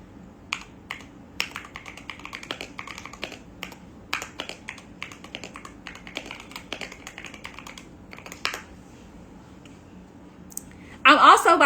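A computer keyboard is typed on steadily at close range, with irregular clicky keystrokes running for several seconds before a louder burst of noise at the end.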